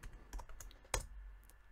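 Quiet clicks of typing on a computer keyboard while entering a short Python command in Visual Studio Code, a brief and faint run of keystrokes.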